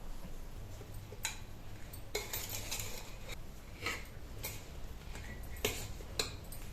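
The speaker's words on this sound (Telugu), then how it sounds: "ఇలా మామిడికాయ ముక్కలన్నిటిని పైన నుంచి కిందకి మొత్తం బాగా కలుపుకోవాలి" Mango pieces for avakaya pickle being tossed with spice powder in a bowl, giving sparse, light clinks and taps of a utensil against the dish, faint and close, with no talk.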